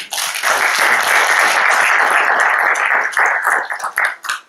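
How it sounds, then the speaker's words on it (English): Audience at a talk on peace and security in South Asia applauding a speaker, close and loud clapping that holds steady before tapering off in scattered claps at the end. "Please give a round of applause to Afzal Khan Saab."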